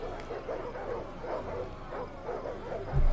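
A pack of war dogs barks in rapid, overlapping yelps during a siege battle in Total War: Rome II, a continuous distant chorus over battlefield noise, ending in a low thump.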